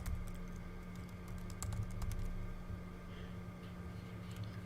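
Someone types a username on a computer keyboard, making soft, quick key clicks over a steady electrical hum and background noise, quiet and close.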